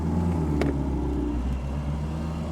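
A Reliant Rialto GLS three-wheeler car's engine idles steadily with a low, even rumble and mid-range drone, close by and continuous, with a brief knock partway through and no talking.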